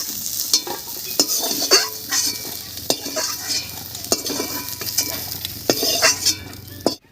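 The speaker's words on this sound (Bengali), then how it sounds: "এবারে হালকা করে ভেজে নেব সয়াবিনটা" Soybean chunks fry in a wok, a close sizzle broken by repeated sharp scrapes and clinks from the spatula stirring them at an irregular pace.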